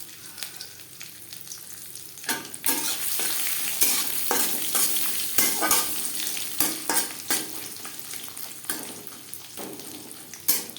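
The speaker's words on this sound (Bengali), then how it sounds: "নারকেল হালকা করে ভেজে নেব।" Grated coconut frying in hot oil with bay leaf and five-spice tempering, a steady sizzle broken by repeated scraping stirs of a spatula against the pan, close and fairly loud with no voices.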